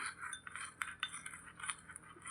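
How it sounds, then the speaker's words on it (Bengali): Besan face cleanser with a few pinches of turmeric is stirred in a bowl, giving quick repeated clinks and scrapes of a spoon against the rim at a steady, busy rhythm, close and fairly quiet, with no talking. "এটা খুব ভালো করে এরকম মেশাতে হবে খুব ভালো করে মেশাতে হবে"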